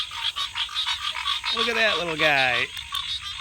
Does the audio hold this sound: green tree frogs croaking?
yes